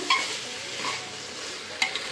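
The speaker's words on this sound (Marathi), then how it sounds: "पण परतून घेऊ, हलक्या हाताने परतून घ्यायचा" Washed basmati rice sizzles softly as it is sautéed in a pan for pulao while a spoon stirs and scrapes, with a couple of sharper clinks.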